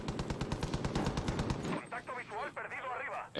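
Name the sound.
gunfire in Far Cry 5 video game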